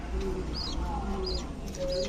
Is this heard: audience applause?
no